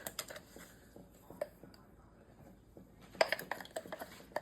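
Seasonings being stirred together for Mexican rice, with light clinks and scrapes of a spoon against a bowl in quiet, irregular bursts and a louder cluster near the end.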